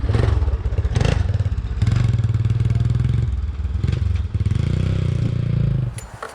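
The engine of a 1985 Yamaha YTM 200e three-wheeler is revved up and down in repeated throttle blips, a loud, close, rattly two-stroke-like drone that rises and falls before dropping off at the end.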